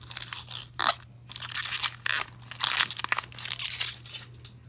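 Plastic film or a sticker being peeled from a corner of a nail art plate, a series of close, crisp crinkling and tearing bursts with short pauses between them.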